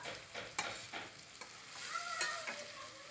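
Okra frying in a pan and being turned over, heard as a soft sizzle with several spatula scrapes and taps in irregular rhythm, fairly quiet and close.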